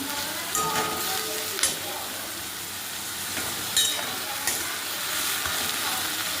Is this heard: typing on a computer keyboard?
no